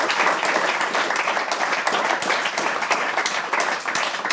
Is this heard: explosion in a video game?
no